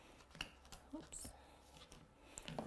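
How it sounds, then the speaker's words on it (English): Scissors snipping paper strips for a handmade slider card, a few quiet, close crisp cuts spaced irregularly. "it looks like I haven't cut enough, so I'll just cut one more after this one"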